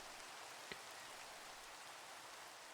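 Steady rain in the video game Minecraft patters as a constant, soft, even hiss, faint and continuous, with no voices over it.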